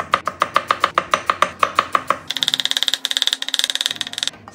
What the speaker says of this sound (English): Slice the potato thinly.